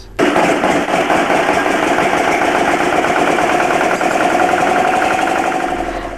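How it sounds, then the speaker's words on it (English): An engine kicks to life abruptly and settles straight into a loud, steady idle with a rhythmic mechanical chug that slowly eases off near the end, heard close up and with no talking. "they start the engine again. And the engine starts."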